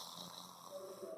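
A voice imitates snoring with a short, faint, rough nasal rasp, heard alone and close.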